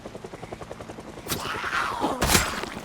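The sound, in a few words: helicopter sound bite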